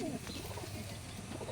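Pigeons coo low and steady in a breeder's loft, with a busy wash of background noise.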